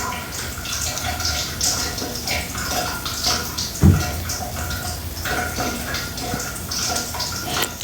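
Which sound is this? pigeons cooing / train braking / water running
water running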